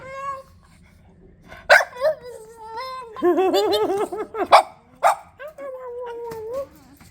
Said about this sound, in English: Oh, I was like, why are we barking?